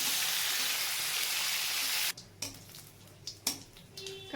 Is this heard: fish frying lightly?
yes